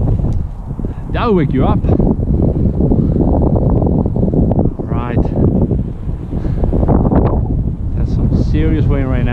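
Strong, gusty Santa Ana wind at a local park, 20 mph or more, roars and buffets loudly against the microphone throughout, with someone talking over it.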